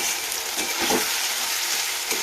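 Garlic and ginger paste sizzles loudly in a pan while being stirred, a dense, even frying hiss with a few soft scraping strokes, close up and without talk.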